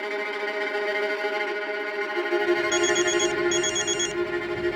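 A telephone rings with a repeating electronic ringtone in bursts, fairly loud and close, over a steady background hum with no talking.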